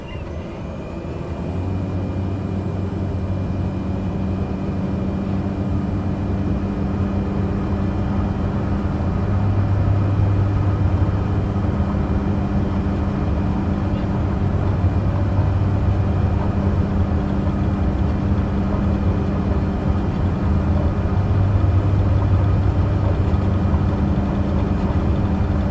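A steady, loud engine roar from a simulated aircraft in Microsoft Flight Simulator 2020 as it heads down the runway, with a low, sustained drone that swells slightly partway through.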